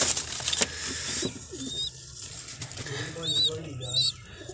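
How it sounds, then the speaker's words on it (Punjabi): A pigeon hen coos in low, repeated rolling calls close by, with higher chirps from young birds in between and a person talking over parts of it. "ਜੀ ਇਹ ਕਬੂਤਰੀ ਹੈ"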